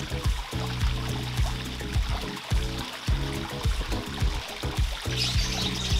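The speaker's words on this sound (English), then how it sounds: "you will see the sounds of the water, the droppings of the water from the waterfalls." Water falling and trickling from a waterfall at a fish farm, a steady splashing flow with a busy rhythmic patter running throughout, fairly close, with faint bird chirps in the background.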